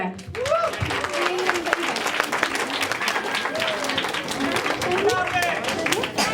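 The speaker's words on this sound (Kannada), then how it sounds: "ರಾಜಣ್ಣಂಗೆ ಇಷ್ಟೇನಾ ಚಪ್ಪಾಳೆ?" Audience applause at a Kannada Deepavali festival gathering, a dense sustained burst of many hands clapping close by, with excited voices and whoops mixed in.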